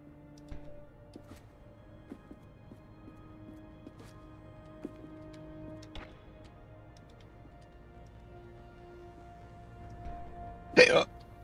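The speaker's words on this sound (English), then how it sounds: "Hey, hiccups." A character in the video game Lightmatter hiccups once, a sudden loud broadband burst near the end, standing out against a quiet hum and scattered faint ticks.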